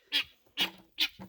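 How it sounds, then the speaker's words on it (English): Three loud, harsh squawks from guinea fowl close by, evenly spaced, followed by a fainter fourth call, with no talking. "If you can hear through the guineas squawking in the background."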